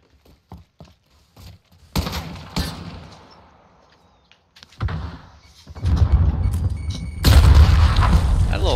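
Explosions boom in a hardcore team deathmatch of Call of Duty Modern Warfare on Arklov Peak, with several heavy thuds and blasts of gunfire that swell in a loud burst near the end, mixed with players talking.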